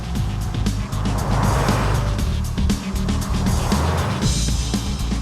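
Porsche Carrera 4 sports car with a 240 horsepower 3.6-liter engine and four-wheel drive, driving at high speed; a loud, steady engine roar with rushing wind and road noise throughout, close up, with no talking.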